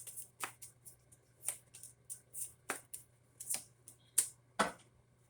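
Tarot cards being shuffled close by, a series of crisp riffling bursts and soft slaps at an irregular rhythm, each lasting a fraction of a second, over a faint low hum with no talking.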